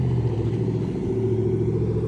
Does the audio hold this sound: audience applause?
no